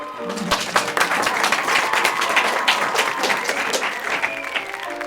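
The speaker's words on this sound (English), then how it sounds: "Robert joins in the applause" At a graduation ceremony, an audience applauds as diplomas are handed out. Dense, continuous clapping from many people fills the hall at an even, lively level, with faint crowd murmur beneath.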